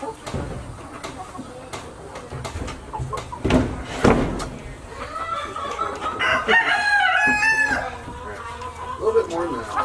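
Chickens at a nest box cluck and squawk for about ten seconds, with a rooster-like crowing call rising in the middle, amid rustling and knocking of the box and a person talking quietly.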